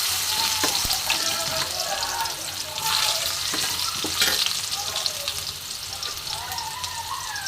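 Chopped tomato hitting hot oil tempered with cumin and dry chilli, for a cabbage and chhana kofta curry; a loud, dense, continuous sizzle with crackling and a few sharper spatula knocks, close and steady throughout, with no voice.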